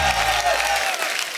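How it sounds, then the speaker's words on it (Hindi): Studio audience applause greeting a guest's entrance on a Hindi television show, a loud, dense burst of clapping heard alone that continues steadily. "तो मैं आप सबकी जोरदार तालियों के बीच में इनवाइट करना चाहूंगा पद्मिनी जी के जीजा जी को"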